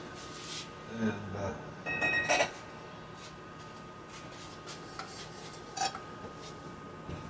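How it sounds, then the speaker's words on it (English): Dishes and pans clatter and clink as they are washed and dried in a kitchen, several irregular knocks and scrapes at close range over a steady low background hum. "I was trying to get the dishes kind of cleaned up and washed and dried."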